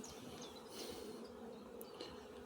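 Honeybees at an opened beehive during a spring inspection make a continuous low, dense buzz, steady and close, with occasional brief higher whines from individual bees passing near.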